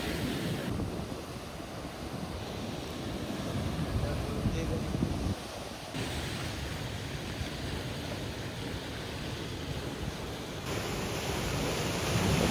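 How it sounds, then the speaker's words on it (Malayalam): Rough sea surf rolls and crashes along the Chaliyam seashore, a heavy continuous wash with gusting wind buffeting the microphone, no voices standing out. "കടൽ നല്ല ഇളക്കണ്ട് കേട്ടോ, അതെല്ലാം നല്ല ഓളടിക്കുന്നുണ്ട്"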